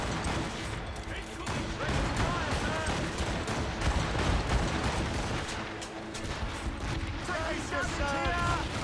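Ship cannons firing in a naval battle in Assassin's Creed Rogue, with dense booming volleys and crashes sustained throughout, while voices shout over the combat.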